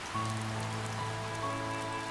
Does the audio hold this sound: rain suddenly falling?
yes